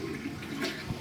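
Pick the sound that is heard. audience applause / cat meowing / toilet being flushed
toilet being flushed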